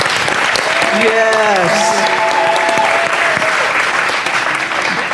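An audience claps at an expansion dedication, a steady, loud, close round of applause lasting the whole moment, with a voice speaking briefly over the start.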